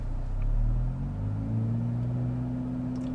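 A 2022 Kia Forte GT engine, held stationary with the brake on, runs in a low steady drone whose pitch climbs gradually, a modest rev held near 2,000 RPM with no one speaking over it.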